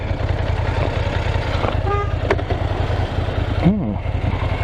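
A short horn toot with a rising-falling pitch sounds over a steady idling motorcycle engine, close by.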